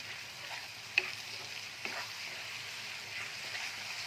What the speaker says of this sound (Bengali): এবার একসাথে ভালো করে পুরো মশলাটাকেই কষাবো যতক্ষণ না তেল বেরিয়ে আসে।